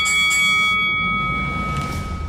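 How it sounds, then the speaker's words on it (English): A single bell rings out with a clear, sustained metallic tone that decays slowly over a couple of seconds, loud and alone. "Ring the bell."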